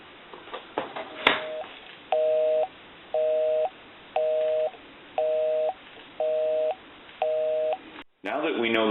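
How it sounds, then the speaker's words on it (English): Telephone line sounds from a Western Electric 350W wood wall telephone: a click, then a steady series of evenly spaced tone beeps, about seven pulses, ending abruptly before a brief burst of noise. "we can push the flash button, give you some dial tone, and we can call my number"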